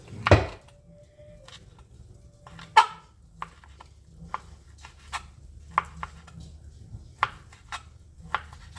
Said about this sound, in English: I'm going to just chop this steak up real quick.